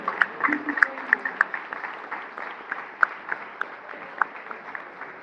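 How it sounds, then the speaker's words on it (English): Applause for coaches at a chess club award ceremony in an art museum, scattered hand claps with distinct sharp claps standing out, voices murmuring underneath. "Let's give all of our coaches a round of applause."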